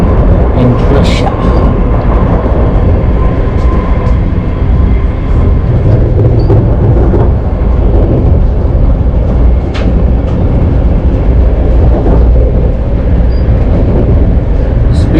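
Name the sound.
high-speed train running in Russia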